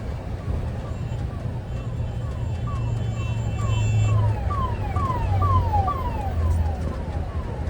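Ambulance siren wailing on a highway, its repeating falling sweeps growing louder over steady road and engine rumble, with faint talk underneath.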